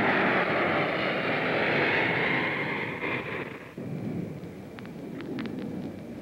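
Lockheed L-1011 airliner rolling out on the runway after an automatic landing, a broad steady engine and wind roar that eases and drops away partway through, leaving a quieter rumble with a few faint clicks.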